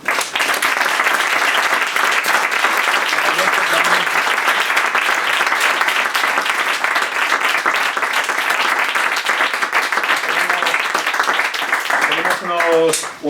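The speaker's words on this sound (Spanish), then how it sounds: "Vamos a dar un fuerte aplauso a David" A room of listeners at a book presentation on El Cid gives the author sustained, loud applause, dense clapping held steadily for about twelve seconds before fading.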